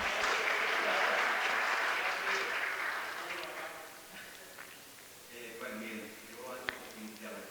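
Audience applause at an ASIPI intellectual property conference in El Salvador, a broad wash of clapping that swells at the start, then thins and fades as a voice begins speaking over the tail.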